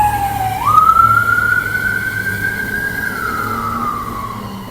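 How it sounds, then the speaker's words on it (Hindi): A loud siren wails steadily, rising in pitch then holding a long sustained tone before slowly falling, with low traffic rumble underneath. "मेडिकल का सवाल था वो एम्बुलेंस भी आ गई।"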